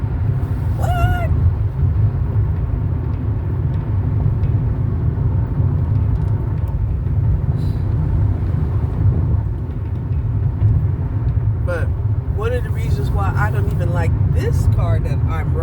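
Steady low rumble and road roar inside a moving car on a rough, uneven ride, continuous throughout with a person talking over it.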